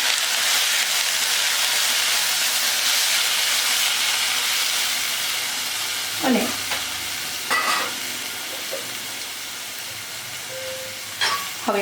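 Red mogri pods cook in a pan with turmeric, salt and a little water, giving a steady loud sizzle broken by a few distinct scraping stirs near the end.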